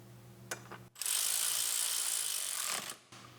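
A ratchet clicks rapidly and close as a bolt is tightened on a Subaru Forester cover, a few short clicks first, then a sustained quick zipping run of clicks lasting about two seconds over a low hum.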